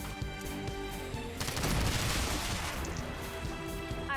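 Rapid gunfire in a video game shooting down a drone, a dense burst of shots swelling in the middle over a steady hum of game sound, loud and continuous without talk.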